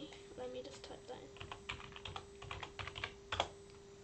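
Someone types on a computer keyboard, irregular bursts of soft clacking keystrokes close by, over a steady electrical hum, ending with a firmer key tap.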